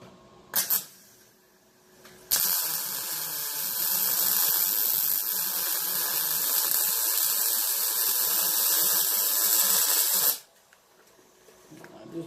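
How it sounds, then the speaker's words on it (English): Welding on a steel camp table frame: a steady, hissing crackle holds for about eight seconds after a couple of brief clicks, then cuts off abruptly into near quiet. "Want to make sure that all these welds are nice and tight."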